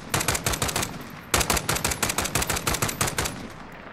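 Full-auto bursts from a SIG SG 550 rifle in Call of Duty Modern Warfare, loud rapid gunshots in two sustained strings with a brief pause between, close and alone.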